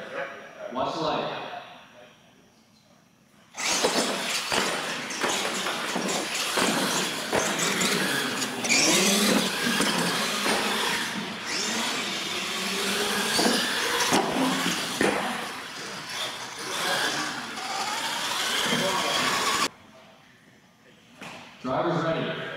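R/C monster trucks race at an outdoor event. Their electric motors whine and buzz in a sustained, busy roar for roughly sixteen seconds, mixed with people talking before and after the run.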